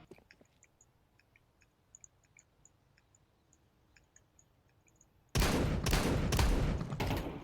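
Sniper rifle fire in a first-person shooter video game: after a quiet stretch of faint clicks and ticks, a sudden loud burst of gunfire erupts and continues densely to the end.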